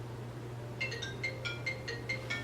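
Mobile phone ringing in a quiet indoor room, a repeating electronic ringtone in short evenly spaced bursts over a low steady hum.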